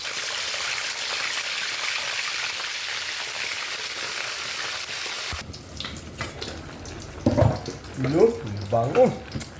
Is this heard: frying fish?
yes